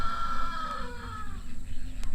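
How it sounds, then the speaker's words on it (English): A Swedish flower rooster crows once nearby on a backyard chicken farm, a single drawn-out call that falls away, over a low background hum. "That's a beautiful rooster over there. yeah, that's a Swedish flower rooster."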